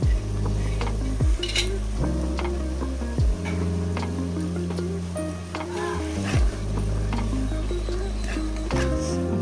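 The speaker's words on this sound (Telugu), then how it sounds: "ఇప్పుడు మనం వేయించుకున్న ఎండు రొయ్యలు అనేవి కర్రీలో వేసుకోండి" Fried dry prawns are stirred into a sizzling tomato curry in a pan, with a utensil scraping and knocking against the metal in a steady rhythm over a soft constant fry.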